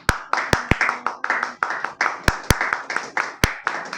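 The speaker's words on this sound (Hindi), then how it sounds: "चलिए ताली बजाइए अपने लोगों को।" A small group claps on cue at a Hindi-language talk, a few seconds of uneven, fairly sparse hand claps with sharp individual slaps standing out, and faint voices underneath.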